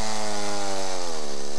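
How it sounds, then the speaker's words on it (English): A chainsaw cuts through the frozen ice of Boulder Reservoir at a midwinter polar bear plunge, its loud, steady buzzing whine sustained without a break, close by, with the engine pitch slowly shifting. "sawing through frozen Boulder Reservoir so a few crazy people can take a dip."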